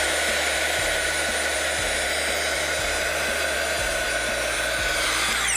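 A heat tool blows hot air to melt embossing powder over a stamped image, a loud, steady fan-driven whoosh and hum held without a break, close up and alone.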